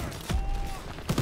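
SMG and turret fire in Call of Duty WW2 lands as two short, punchy bursts, one near the start and one near the end, separated by a lull of low rumbling background.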